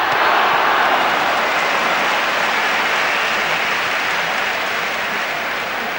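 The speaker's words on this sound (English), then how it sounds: "We're getting enthusiastic applause from the Lazio fans" Lazio supporters in a large football stadium applaud during the 1999 UEFA Super Cup against Manchester United, a broad, steady roar of clapping and crowd noise that fills the whole stretch.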